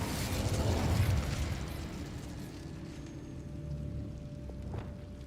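Incendio fire spell cast in Hogwarts Legacy, a loud burst of fiery whoosh and crackle up front that settles into a quieter mechanical hum and faint pops.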